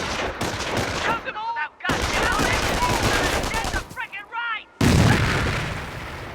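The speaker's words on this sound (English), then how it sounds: "Let's throw a grenade to destroy the machine gun team." Grenade blasts and machine gun fire from the Company of Heroes strategy game, loud rapid bursts and booms separated by short gaps, with game voices speaking over the battle.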